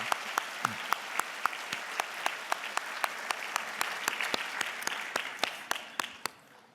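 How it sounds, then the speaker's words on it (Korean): A church congregation at a Christmas Day service applauds the children in attendance, a dense, steady round of clapping that carries evenly at moderate volume and tapers off at the end. "우리 어른들이 축복의 박수를 한번 보내도록 하겠습니다"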